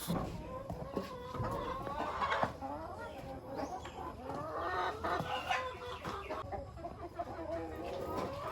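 Roosters and chickens at a heritage breeder farm cluck and chatter continuously nearby, with a rooster's crow rising briefly amid the busy, low-level farmyard noise.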